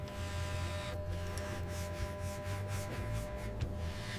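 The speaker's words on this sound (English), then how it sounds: "Rub tests ensure the dye won't transfer to your clothing." Dyed leather rubbed in a quality-control rub test gives a steady close-up friction scrape with repeated strokes over a low machine hum, no voices.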